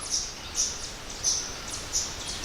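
A woodpecker gives its territorial call on the Standing Stone Trail near Butler Knob, a series of short, high, squeaky notes repeated at a steady pace over faint outdoor background.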